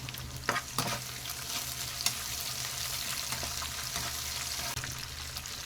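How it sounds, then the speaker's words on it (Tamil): Onions and dried red chillies sautéing in a pan for tomato chutney, a continuous close sizzle with occasional spatula stirring scrapes and no talking. "வெங்காயத்தை நல்லா வதக்கிடலாங்க"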